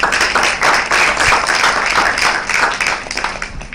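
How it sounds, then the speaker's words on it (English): Audience applause for a guest at an African film festival panel, a dense wash of clapping that stays steady and fairly loud for a few seconds without speech. "Let us have a round of applause for Ms. Jackie Motsepe"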